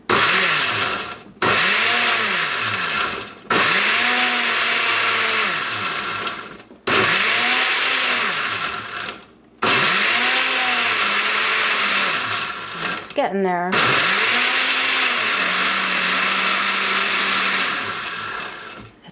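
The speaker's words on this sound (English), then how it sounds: "All of that is in a blender." Loud kitchen blender pulsing kimchi paste ingredients with fish sauce, several whirring bursts separated by short pauses, the motor pitch rising and falling each time; a voice speaks briefly partway through.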